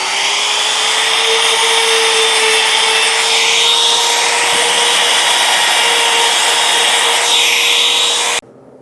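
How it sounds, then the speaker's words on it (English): A router runs continuously through wood for a pull-out deck system in a cabinet shop, a loud, steady high whine with a slight shift in pitch partway through, cutting off abruptly near the end. "let's get this router going."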